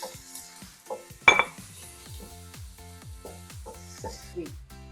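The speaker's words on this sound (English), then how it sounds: "I'm going to fry the onions till it becomes light brown in color." Onions fry in a pan for chicken cutlets, a soft steady sizzle with a utensil scraping and clinking against the pan at irregular intervals, one louder clatter early on, close and moderately quiet.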